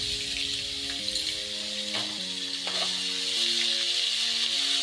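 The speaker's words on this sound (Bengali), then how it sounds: "ফোড়ন থেকে যখন ভালো গন্ধ বেরোলো এবার আমি পেঁয়াজ বাটা দিলাম।" Bengali onion paste hitting hot oil while doi katla is cooked, a bright steady hissing sizzle with no breaks, heard close under soft background music, with no talking.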